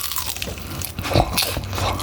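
Close-up bites into crispy boneless Mexicana kkanpung fried chicken coated in a garlicky kkanpung sauce. The crunch is loud and crackly, with a sharp burst of crackling in the middle and softer chewing around it. No voices are heard.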